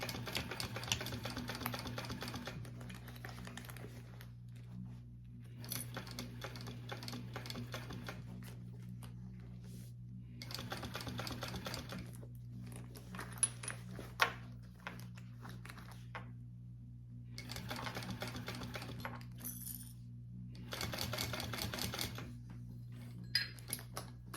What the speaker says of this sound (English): go ahead and just carefully and slowly top stitch your bag